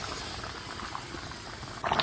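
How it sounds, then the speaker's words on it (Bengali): Hilsa fish curry boiling in a pot, a steady close bubbling and simmering that holds evenly throughout, swelling louder for a moment near the end. "তরকারিটা আমার বলক চলে আসছে, এখন আমি দিয়ে দেব ইলিশ মাছগুলা"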